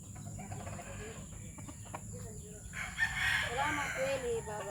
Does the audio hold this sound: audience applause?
no